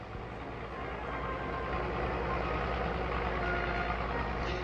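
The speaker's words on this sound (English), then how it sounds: "in a huge scrapyard like this one at Waltham Cross" A truck reverses through a huge scrapyard at Waltham Cross. Its backup alarm beeps steadily over a continuous engine rumble and the broad noise of the yard, with no voices.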